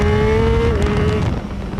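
A Triumph Street Triple 765 RS 2020 motorcycle engine revs hard in second gear, a loud sustained whine that climbs, then drops sharply as the rider shifts, with wind rush behind it.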